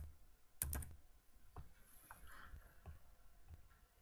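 Typing on a computer keyboard in a quiet room: a sharp burst of clustered keystrokes near the start, then a few scattered, fainter key taps and clicks spaced out over the rest.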